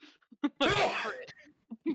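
A single loud, close sneeze bursts out during a tabletop game session, with people talking briefly before and after it.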